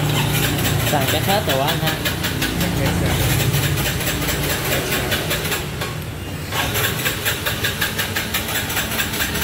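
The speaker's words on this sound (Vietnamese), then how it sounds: "Rồi để em đề máy con này cho anh em nghe cái đã." A cleaning machine's engine starts and settles into a steady mid-pitched idle with a faint knocking rhythm, running loud and close throughout while people talk over it.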